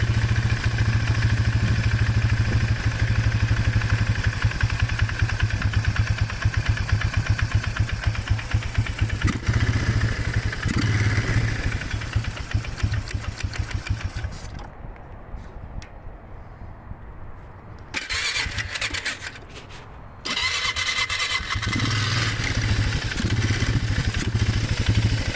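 A 1995 Polaris Magnum 425 four-valve ATV engine runs with a steady idle and mechanical clatter, near and loud, with a brief dip where the idle drops lower before returning.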